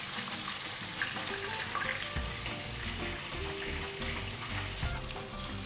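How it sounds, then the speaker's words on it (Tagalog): Tilapia frying in hot oil, a dense continuous crackling sizzle with scattered pops, close and steady, no speech. "itutuloy natin yung pagprito dito sa side na to hanggang sa maging crispy na"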